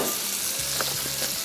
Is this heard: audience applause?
no